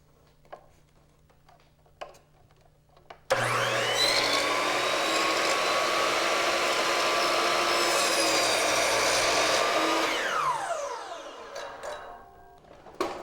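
A miter saw slices an inside-corner cut through a length of wood molding, its motor whining up loud and steady for about seven seconds before spinning down, with light handling knocks before and after.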